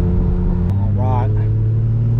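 Infiniti G35 sedan engine pulling hard under full throttle, a steady loud drone with a rising whine in the middle, while people talk inside the car.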